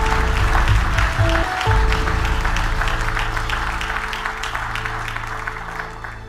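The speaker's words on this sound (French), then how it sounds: "Est-ce qu'on peut acclamer le Seigneur?" A church congregation applauds and cheers for the Lord during a service, producing a dense, sustained wave of clapping with crowd voices and a held tone underneath that slowly fades toward the end.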